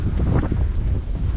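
Strong, steady wind buffets the microphone throughout a ride on an e-bike through dry grass, a dense low roar without pauses and no voices.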